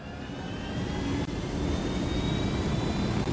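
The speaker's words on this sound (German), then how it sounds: "also ich bin schon mal weggekommen mit dem Hubschrauber" Helicopter flying in the video game Ghost Recon Wildlands, a steady loud engine and rotor drone holding constant throughout with a faint high whine above it, no voices.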